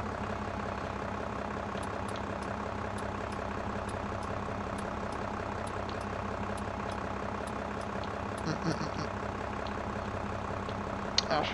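Tractor engine idling in the video game Farming Simulator 22: a steady, low, rhythmic diesel rumble holds throughout, with faint ticking and a few small clunks near the end, no voices.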